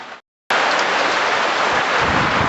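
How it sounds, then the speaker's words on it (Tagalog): Heavy rain pounding down during a storm, a loud, dense, continuous roar of rainfall that starts suddenly after a brief silence and holds steady, close and enveloping with no voices. "sobrang lakas na talaga ng ulan dito sa aking paligid"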